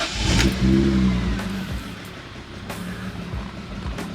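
A BMW E36 M3 with 88,000 miles revs its engine while driving, a loud surge of acceleration up front easing into a steadier, lower engine drone with a few sharp bumps, no talk over it.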